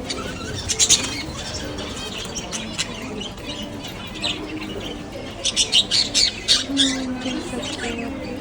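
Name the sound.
birds squawking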